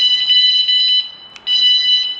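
Shrill, high-pitched alarm tones from linked alarms just paired to a wall switch in a security kit, sounding loud and close in rapid pulsing bursts that break off briefly before resuming.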